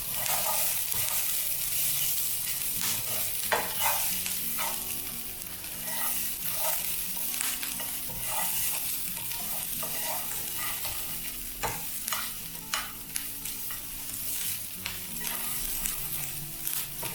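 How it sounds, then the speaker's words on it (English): Peppers sautéing in a hot pan for Cuban sandwiches make a continuous dense sizzle. Frequent scraping stir strokes and utensil taps run through it, close and fairly loud, with no voices. "I really need these peppers to saute down."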